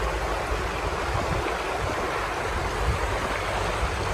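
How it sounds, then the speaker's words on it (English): A river in Seaforth, St. Thomas, Jamaica rushes past close by, a dense, steady wash of flowing water that stays even and loud throughout, with no voices over it. "River water."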